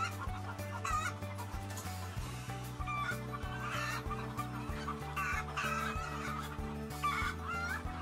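Hens in an enriched colony cage system cluck steadily and close by, a busy overlapping chorus of short calls over a low droning hum, with no one speaking.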